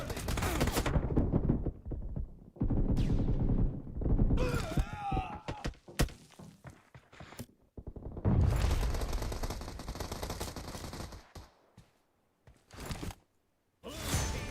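Bursts of automatic gunfire crackle through a BGMI (PUBG Mobile) match, rapid volleys alternating with short pauses and whooshing effects, loud and close, with some faint vocal groans between the bursts.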